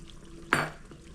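A single rice-flour-and-sugar adhirasam is dropped into hot oil in a small kadai over a low flame, giving one sharp splash that fades into a short, soft sizzle.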